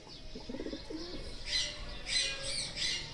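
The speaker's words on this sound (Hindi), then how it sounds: "ये बड़े कबूतर हैं।" Large domestic pigeons in a rooftop loft coo softly, with a low burbling call early on, then wing flutters and light chirps; the sounds are faint against a steady background hiss.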